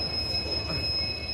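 Train pulling into a station at Kharagpur, a sustained high metallic squeal of wheels on rails over a low rolling rumble, close and steady.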